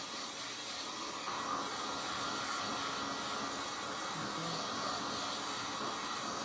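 A hair dryer blows a steady, loud airy hiss while drying a homemade bird bottle, running continuously without pause.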